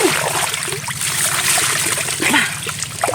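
Cold water is splashed and poured during a bath, loud, close splashing and streaming that runs continuously with bursts of spatter, and a voice briefly murmurs underneath.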